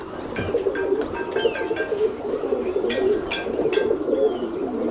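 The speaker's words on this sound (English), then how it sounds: "Now this is a black splash cock." A rescued black splash cock pigeon coos in a loft, low rolling calls repeating close by amid other pigeons' soft murmurs and a few sharp chirps, with no talking.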